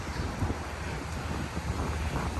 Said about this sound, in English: big gust of breeze coming as I start to film